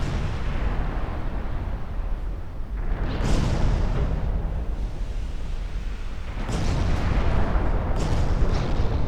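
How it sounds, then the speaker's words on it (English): Naval 9-inch guns fire in the warship game Ultimate Admiral Dreadnoughts, heavy booming blasts over a constant rumbling battle bed, with distinct loud shots spaced a few seconds apart. "they're actually firing back with their 9-inch guns."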